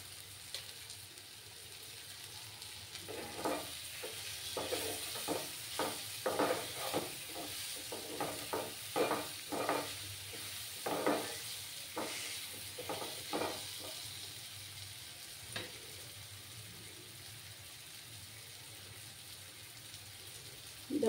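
Spice masala being sautéed and stirred in a pan, a quiet sizzle broken by a run of scraping, clattering stirring strokes in the middle, then settling back to a soft steady fry, with no talk.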